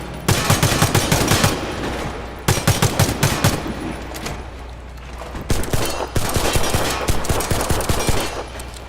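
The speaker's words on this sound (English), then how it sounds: "you want to try to keep firing in smaller bursts" Rapid gunfire from the Warface video game, fired in short bursts separated by brief pauses, loud and close, with no talking over it.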